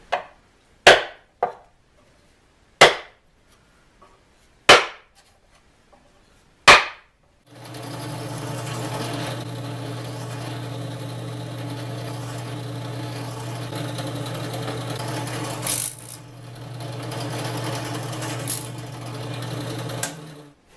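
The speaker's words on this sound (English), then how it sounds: "So as I was drilling the pilot holes here" A power drill whirs in one steady run of about thirteen seconds, boring pilot holes through a wooden table saw dovetail jig. Five sharp, separate knocks come first, and no one talks.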